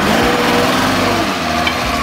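A drift car engine runs loud and close with a rough, raspy tone, a misfire uneven in its buzz and droning steadily throughout.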